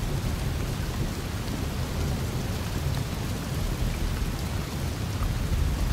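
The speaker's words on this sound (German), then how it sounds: "Das Gewitter ist da." Steady heavy rain with rumbling thunder from a thunderstorm in the video game Desperados III, a dense continuous downpour that carries on unbroken with no voices.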